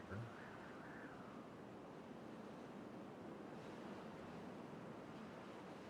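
Steady wash of water pouring into an area in the video game Timberborn, a broad continuous rushing hiss with no breaks, moderately loud throughout.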